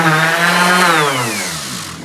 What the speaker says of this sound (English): I kind of like to do a quick coarse sand on a piece of wood